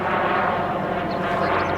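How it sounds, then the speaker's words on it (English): Propeller airplanes passing overhead along the Victoria Lines in Malta, a steady broad engine drone that fills the whole stretch without pause. "More planes."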